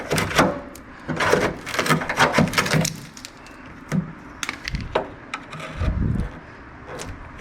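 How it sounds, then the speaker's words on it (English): Scraping and prying clicks from a screwdriver working at the door of a 1979 Ford Bronco, in irregular bursts with a few sharp knocks and pauses. "I've got my screwdriver, so I guess all we can do is start picking at it"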